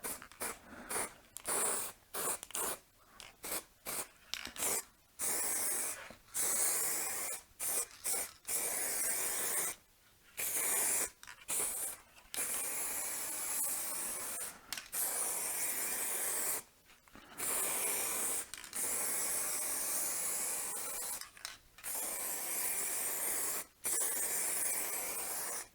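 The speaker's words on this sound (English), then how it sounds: "now the primer's dry, let's go straight on with the satin black." Aerosol can spraying satin black paint over dry primer on a Citroën BX, hissing in long bursts with short pauses between them, close and fairly loud, with no talking.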